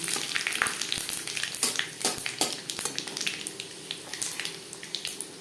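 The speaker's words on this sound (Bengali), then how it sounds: "লঙ্কার সাথে পনেরো কুড়ি সেকেন্ড পাঁচফোড়ন তেজপাতা ভেজে নেওয়ার পর দিয়ে দেবো পেঁয়াজ" A bay leaf, panch phoron and chopped chilli crackle in a little hot oil for a fish-head muri ghonto. The close, lively sizzle is full of rapid small pops and spatula scrapes, with no talk.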